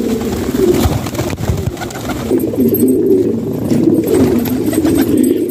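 A fancy pigeon held in the hand and a loft of birds nearby coo steadily: continuous low, throaty rolling burbles, loud and close, with rustling and no talking.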